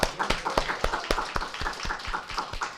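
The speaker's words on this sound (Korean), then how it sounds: "우리 하나님께 영광의 박수 올려드립니다." A church congregation at a Sunday worship service claps in praise, giving a quick, fairly regular run of sharp, close claps with no talking over them.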